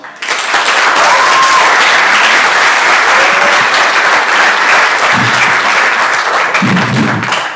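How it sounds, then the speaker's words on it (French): Loud, sustained audience applause for a speaker at a French eloquence contest, a thick, continuous roar of clapping that fills the whole stretch, with faint voices and cheers surfacing near the end. "veuillez faire un tonnerre d'applaudissements pour Monia"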